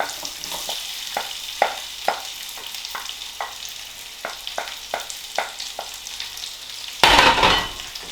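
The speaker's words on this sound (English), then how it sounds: "we're going to brown the onions." Onions frying with spices in olive oil in a pan, soft sizzle under a run of light scraping stirs, then a loud burst of hissing near the end, no talking.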